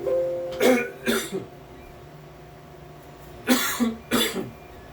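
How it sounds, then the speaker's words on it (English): Several close, muffled coughs into a hand in two bursts, a pair early on and another pair a few seconds later, over a quiet background hum. "you guys saw me cough in my hand"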